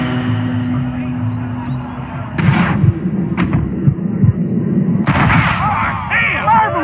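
Several loud gunshots in the Western video game Red Dead Redemption, sharp bursts with echoing tails spaced over a few seconds above a low background rumble.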